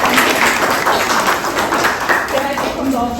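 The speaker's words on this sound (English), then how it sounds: "Give her a big round of applause." Loud, close applause at a book launch for a guest called up to the stage, dense clapping from the audience with some speech mixed in near the end.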